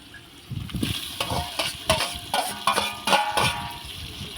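Tomatoes, green chilies and curry leaves added to softened onions in a pan, with steady frying sizzle and repeated stirring scrapes throughout, close and fairly loud.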